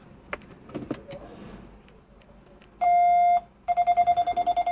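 A rear bumper parking sensor on a Honda Accord, fitted inside the bumper, sounds a long steady tone and then a rapid series of evenly spaced beeps, clear and close after some faint handling noises.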